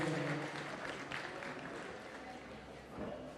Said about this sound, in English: Round of applause for Faith,